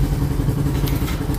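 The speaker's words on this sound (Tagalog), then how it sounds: "ingay yung motor mga kahabi" A motorcycle engine running nearby beside a small bird aviary, a steady low rumble with faint clattering throughout the brief moment.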